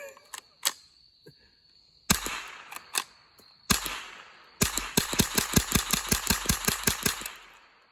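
Suppressed old .22lr rifle firing subsonic rounds: a few sharp scattered shots, then a fast, evenly spaced string of snappy cracks with mechanical clatter, close and fairly loud, no talking.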